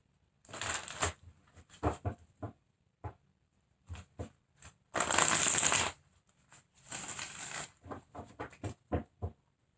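Tarot cards are shuffled in bursts of crisp riffling and flicking, with one longer riffle in the middle, close and alone with quiet pauses between.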